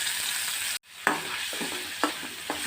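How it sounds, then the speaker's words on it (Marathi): Marinated prawns fry in hot oil with a steady, bright sizzle that cuts out briefly near the start, then resumes with a few sharp pops and spatters. "ऑयल बरी गरम जालो म्हणटकीर तातून मॅरिनेट केल्ली प्रॉन्स घालून बरी फ्राय करून"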